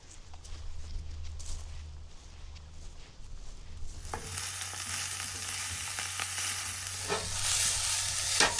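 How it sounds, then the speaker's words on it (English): A stir fry sizzles steadily in a pan in a boat's galley, a constant crackling hiss that swells louder partway through, with no talking. "I'm only having a stir fry, so it's really easy."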